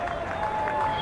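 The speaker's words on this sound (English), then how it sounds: "Maybe a bit of a Bronx cheer from the crowd." A baseball crowd at a Kentucky Wild Health Genomes vs York Revolution game with the bases loaded, giving a Bronx cheer: a steady, fairly loud wash of crowd noise over about a second.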